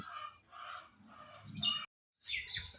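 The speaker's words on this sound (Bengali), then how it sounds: "এই যে এগুলো হচ্ছে আমার মুরগি এবং মুরগির বাচ্চা।" Hens cluck and chicks chirp in short, high peeping bursts, fairly close, with a brief silent gap before more chirping.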